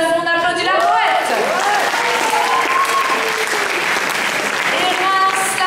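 An audience at a poetry slam applauds loudly and steadily, with a few voices and whistles rising above the clapping.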